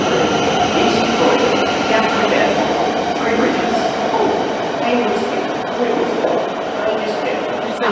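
Train at a London St Pancras International mainline platform, a loud steady rumble and rolling wheel noise with faint squeals, continuous and close, with talk mixed in.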